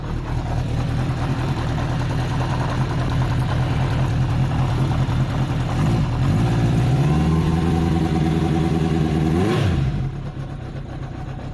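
A 1981 Honda CB750K motorcycle engine runs loud and steady at a high idle, then revs up to around 9,000 RPM and drops away as the throttle closes, with no one speaking.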